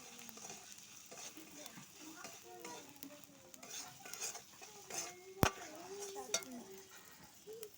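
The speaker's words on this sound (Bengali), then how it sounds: "সোয়াবিন দিয়ে দিয়েছি, ভালো করে নেড়ে নিচ্ছি।" Soybean curry with tomato, chilli and turmeric being stirred in a pan, soft scraping and light sizzling with scattered utensil clinks and one sharp knock, quiet and close.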